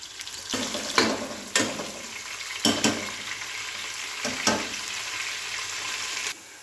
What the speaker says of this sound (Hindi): इसको मैं ऑयल के अंदर अच्छे तरीके से फ्राई कर लूँगा